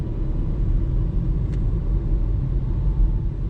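A Renault Clio 5 with the 1.0 SCe engine pulls at full throttle from low revs, giving a steady, loud, deep droning rumble that holds evenly throughout with no talk.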